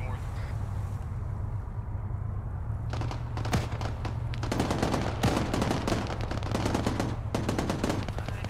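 Heavy gunfire rattles through a military video game beach landing, with rapid machine-gun bursts and single shots cracking in clusters over a low engine drone, growing denser toward the end while a voice speaks faintly underneath.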